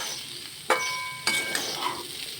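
Murighonto ingredients with fish head being sautéed in a pan for a Bengali dish, giving a steady close sizzle with a few sharp clatters of a spatula against the pan.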